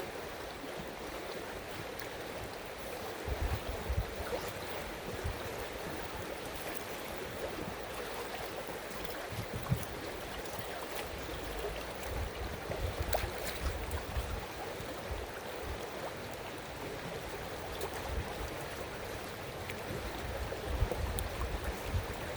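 A big river flows in a steady, broadband rush, soft and continuous like distant moving water, with faint occasional splashes and knocks and no voices over the constant wash.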